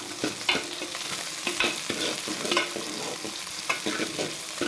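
Onions and tomatoes sauté for a tomato kurma, a continuous sizzle broken by repeated scraping stirs of a spoon in the pan, close and steady throughout.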